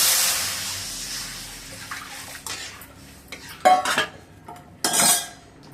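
Pepper rasam pours into a vessel with a rushing liquid hiss at the start, followed by scattered clinks and clatters of metal utensils against the pot.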